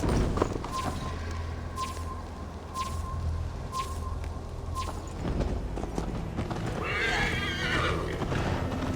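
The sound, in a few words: horse galloping in a video game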